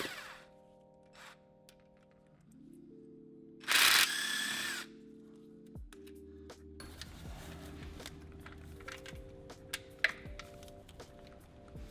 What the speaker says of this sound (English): we're going to take out these 3 bolts